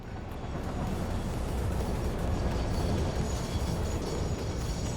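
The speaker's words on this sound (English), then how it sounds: "it sounded like a train was coming" Steady low rumbling drone of an approaching train in the factory-building video game Satisfactory, continuous and fairly loud throughout with no talk.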